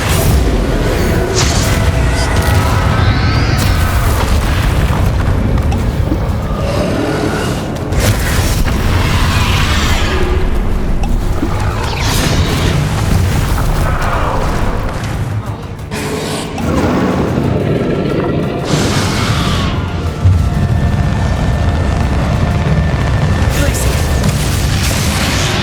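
Explosive spells in the Hogwarts Legacy video game go off in repeated heavy booms and bursts, loud and layered over continuous game noise, with voices shouting between the blasts.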